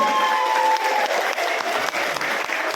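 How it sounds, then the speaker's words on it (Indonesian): Loud, dense applause from a congregation at a Christmas service and choir contest, steady throughout with a few faint tones and murmurs beneath the clapping. "berikan tepuk tangan"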